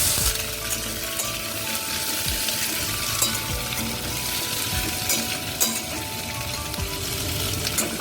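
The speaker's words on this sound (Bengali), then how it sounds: "ফোড়ন দিয়েছি, দিয়ে আলুটাকে জাস্ট ভেজে নেব।" Potatoes fry in oil tempered with whole spices for a vegetarian paneer dish, giving a steady close sizzle with occasional stirring clatter and faint music underneath.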